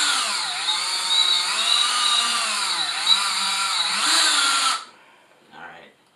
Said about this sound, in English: I'm just going to take a small drill bit and just drill a little pilot hole